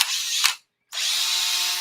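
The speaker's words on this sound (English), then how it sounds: "yeah, you like the drill?" A power drill whirs loudly in two bursts, with a brief silence between them, its motor giving a steady high buzz.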